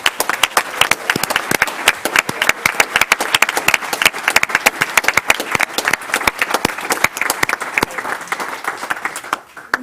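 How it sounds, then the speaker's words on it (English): A modest group claps at a school board meeting in honor of teachers, individual hand claps distinct and fairly close in a lively, uneven patter that keeps going for several seconds before thinning out at the end. "let's give a big round of applause for all of our teachers out there"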